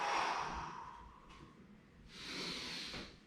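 Deep breaths during a bodyweight HIIT workout moving from push-up into downward dog, a long breathy inhale followed by a steady exhale, close to the mic with no talk.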